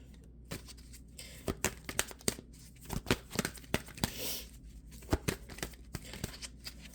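Tarot cards are shuffled by hand in a quiet room, producing a series of soft, irregular riffling snaps and papery flutters, close and alone.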